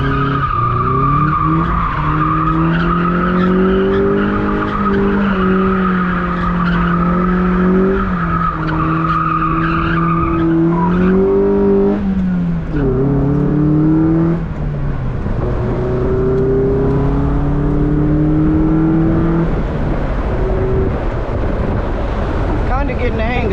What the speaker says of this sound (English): I gotta learn how to drift.